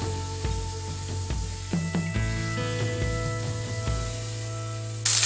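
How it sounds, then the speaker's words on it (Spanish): Seasoned chicken milanesas sear in very hot oil, a steady close sizzle running the whole time with faint knocks and scrapes of a pan or utensil on top. "Necesitamos que el aceite esté bien caliente porque solo vamos a sellar nuestras milanesas"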